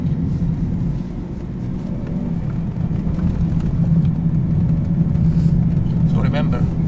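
A 420-horsepower turbocharged car engine drives steadily, its low rumble loud and continuous throughout, with people talking over it inside the cabin.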